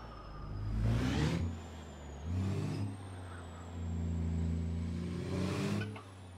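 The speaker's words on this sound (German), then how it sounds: "fahren jetzt hier heute mal ein bisschen Detroit Diesel Sounds" A Detroit Diesel engine in an International 9900i long-wheelbase truck hauling a reefer trailer in American Truck Simulator, droning low and revving up and down in three distinct surges, with air-brake hisses between them; no talking.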